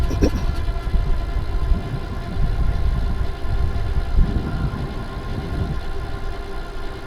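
Ride1UP Vorsa e-bike's motor pulling under throttle up a short, punchy hill at about 20 mph, a steady low drone with rushing wind noise running continuously and close.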